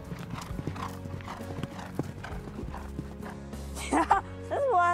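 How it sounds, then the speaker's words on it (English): Racehorse hooves thudding in a rapid, continuous rhythm, heard moderately close, with a neigh near the end. "listens for the exhilarating sound of his favorite horse in full gallop"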